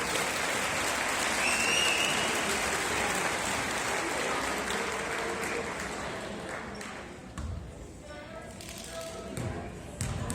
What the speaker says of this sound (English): One more round of applause for our Bronx,